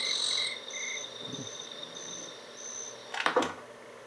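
Crickets chirp at night in the Sega Dreamcast game Seaman, repeating short, regular trills, joined by a soft thud and then a louder scraping clatter near the end.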